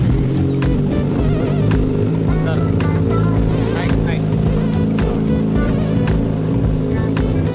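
A motorcycle engine runs after an oil change, a loud, steady, close-up drone with sharp rev bursts and rattling over it, and a voice talks underneath.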